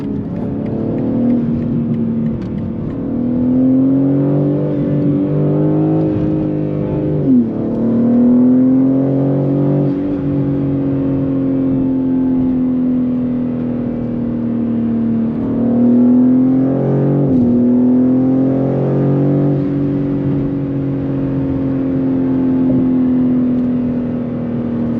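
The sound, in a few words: modified 500hp BMW G80 M3 driving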